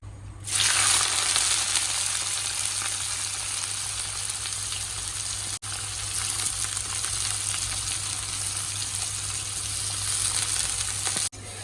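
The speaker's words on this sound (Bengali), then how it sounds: "একটু জিরে দিয়ে দিই জিরেটা একটু ভাজা হয়নি" Cumin seeds crackle and sizzle in hot oil in a home kitchen, a steady dense hiss that starts abruptly and holds for several seconds, close and fairly loud with no voices.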